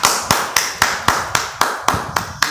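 Fans at a family event give a round of clapping, heard as sharp, evenly spaced claps about every quarter second, like one or a few people clapping in rhythm.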